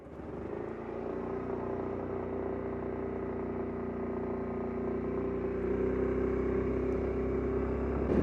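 Suzuki Burgman 400 ABS big scooter engine running at low speed through a slow U-turn with the rear brake dragging, a steady close drone that swells slightly toward the end, with no talking.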